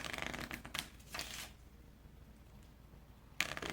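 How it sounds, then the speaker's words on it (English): Playing cards are shuffled during a game of Speed, with a rapid riffling burst, a short pause, a second riffle, then a quiet gap before a final quick snap. "you would just take these middle cards, kind of shuffle them up, get them reshuffled"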